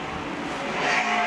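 Dash race cars running laps on an oval track during a test session, a steady loud engine drone that swells slightly as a car nears, no talk over it.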